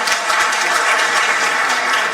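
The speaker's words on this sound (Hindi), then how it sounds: "एक बार जोरदार तालियां।" An audience at a Women's Day honouring ceremony in Bhopal applauds loudly, a steady, dense wash of clapping that stays even throughout.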